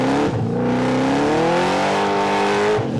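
An LS3 small-block V8 in a track-focused Nissan Frontier with a six-speed, revving hard close by, its pitch climbing smoothly through the rev then dropping off, loud and continuous.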